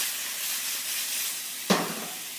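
Chicken pieces sizzle steadily in a frying pan in a budget home kitchen, a continuous close hiss with one brief louder clatter as the meat is flipped, then the frying carries on alone.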